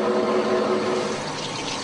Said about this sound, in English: Then the foil is rinsed with demineralized or deionized water.